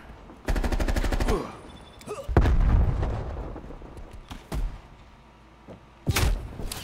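Rapid automatic gunfire in the video game Call of Duty: Cold War, a loud burst followed by heavy thumps, a long rumbling blast and a few more sharp shots, with a voice heard only faintly.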